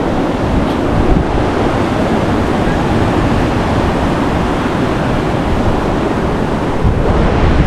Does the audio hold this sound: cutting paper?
no